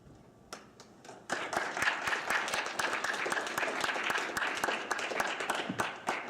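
Audience applause for a speaker at a talk on Friedrich Schiller and culture, starting as a few scattered claps and swelling into steady, dense clapping from a sizable crowd in a hall.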